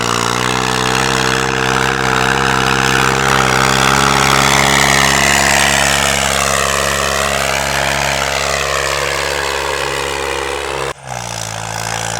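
A New Holland 3630 tractor engine, refitted with an inline fuel pump, runs hard at high RPM, a loud steady close drone whose pitch sags and recovers, then briefly cuts and dips near the end.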